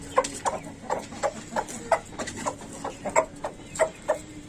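Aseel chickens cluck close by in a steady run of short, regular clucks with a low background hum.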